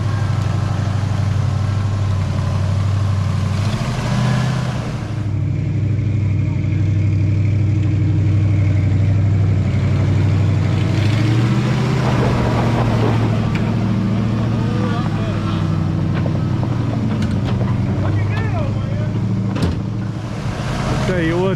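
The engine of a 1968 Ford F250 pickup runs steadily at a low, throbbing idle, loud and close, with a brief dip in the rumble and faint talk in the background.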